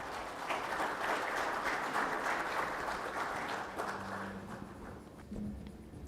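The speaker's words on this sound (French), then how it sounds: "Madame, Monsieur, veuillez, s'il vous plaît, applaudir Mehdi Zakaria" Audience at a summit applauds after the president is introduced, a full, steady burst of clapping that fades out over several seconds, leaving quieter room tone.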